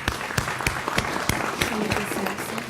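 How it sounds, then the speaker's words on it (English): Applause from the audience at a city council meeting, a steady round of clapping with sharp individual claps. It rises briefly and holds at a moderate level for under three seconds. "Give her a round of applause."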